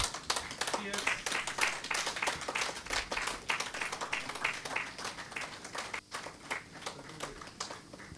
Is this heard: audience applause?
yes